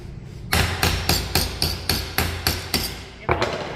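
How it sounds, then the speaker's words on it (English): A hammer strikes sheet metal to close a standing seam, about ten sharp, ringing blows in a steady, brisk rhythm, loud and close with a short pause before the last hit. "Give it a little hammer."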